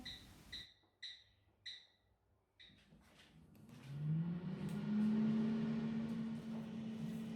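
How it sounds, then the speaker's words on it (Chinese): An air fryer set to 170 degrees, cooking kale: a few sharp beeps as it is set, then a fan motor spins up into a steady, rising hum with a low droning whine that holds to the end. "空气炸锅我定在170度5分钟"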